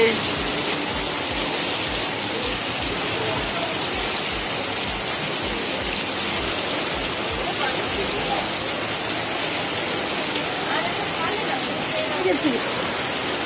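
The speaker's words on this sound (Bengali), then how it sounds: "ওরে বাবা, আকাশ ভেঙে বৃষ্টি নেমেছে" Heavy rain pours down outdoors near a lit street in the evening, a dense, steady hiss that holds at an even level throughout with no pauses.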